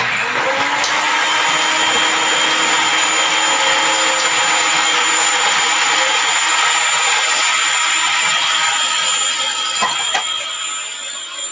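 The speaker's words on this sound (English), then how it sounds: "turn your food processor on and you drop them down the chute, they mince up really nice and evenly" A food processor runs steadily with a loud, even motor whir while ingredients drop down the chute to be minced, holding a constant pitch for the full stretch with no talking.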